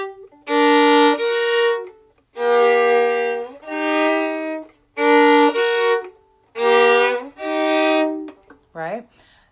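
Solo violin plays a passage from a Prokofiev sonata moving between augmented and major harmony, several sustained bowed phrases separated by short pauses and ending in a quick sliding figure, bright and close.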